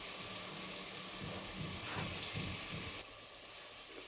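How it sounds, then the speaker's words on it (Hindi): Rice is washed under a running kitchen tap, a steady hiss of flowing water with faint swishing of grains in the vessel, close and continuous, with no voices. "तब तक मैं चावल धो लूँ।"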